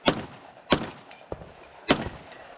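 Pistol shots on an outdoor multi-gun competition stage: three sharp, loud reports at uneven intervals, with a fainter, smaller crack between the second and third.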